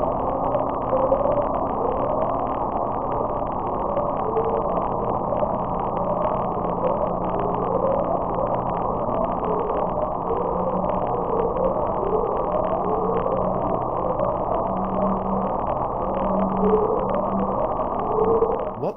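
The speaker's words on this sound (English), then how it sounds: "The sound, named Upsweep, has appeared on underwater microphones or hydrophones since the US Navy's SOSUS sonar array began recording in August of 1991." Upsweep, a mysterious low underwater sound from the Pacific Ocean picked up by Navy hydrophones: a steady series of repeating rising sweeps, evenly spaced over a continuous droning hum, distant and unbroken throughout.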